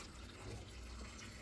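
Boiling hot water poured over a goat's head to clean it, making a steady, close gushing splash that runs unbroken with no voices.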